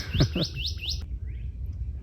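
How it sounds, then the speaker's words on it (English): Mockingbirds and other birds chirp in a North Texas garden by ripening blueberry bushes, a quick series of four rising chirps for about a second, then quieter scattered calls over low outdoor background noise. "So it's no wonder the mockingbirds and birds are out here trying to find some food."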